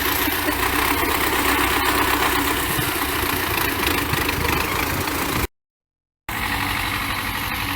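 Tractor engine running steadily at a farm field during disking, a loud, continuous mid-to-low engine drone with vibration, briefly cut off near the end.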